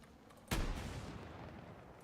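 A single loud detonation of a projectile in Battlefield 6, a sharp blast followed by a long rumbling decay, with no voices.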